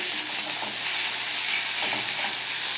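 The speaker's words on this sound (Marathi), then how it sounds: "व्यवस्थित आपण त्याला या कांद्याबरोबर मिक्स करून घेऊया म्हणजे मिरची या तेलाबरोबर परतली जाते" Chili, garlic and coriander paste frying with onions in hot oil for thecha, a loud, steady sizzle with a light stirring scrape underneath, continuous throughout.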